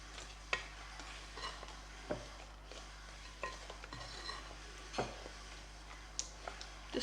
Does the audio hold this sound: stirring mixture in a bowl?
yes